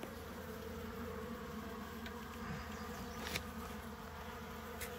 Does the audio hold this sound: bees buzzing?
yes